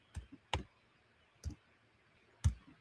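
Typing on a keyboard, four sparse, faint, sharp key clicks spaced irregularly in a quiet room.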